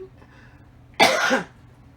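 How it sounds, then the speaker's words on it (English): A single harsh cough burst lasting about half a second, close and loud, following a quiet stretch. "I have to cough, hold on."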